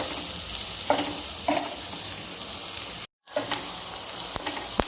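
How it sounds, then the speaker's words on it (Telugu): Onions frying in a pan for a gongura egg curry, a constant close sizzle with a few stirring scrapes and a brief cut to silence partway through. "ఇది కొంచెం షేడ్ మారేంత వరకు వేయించుకుందాం ఆనియన్"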